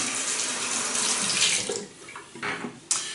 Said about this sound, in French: je me rince la figure